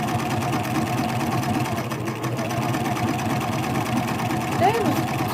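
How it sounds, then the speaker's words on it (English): A sewing machine runs continuously while sewing a baby quilt block, its steady mechanical whir filling the whole stretch at an even level. "I'm sewing the next block."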